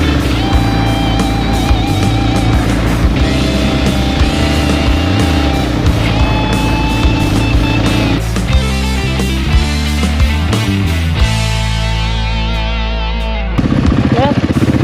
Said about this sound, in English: Winding down the mountain to ride across the Thompson Dam.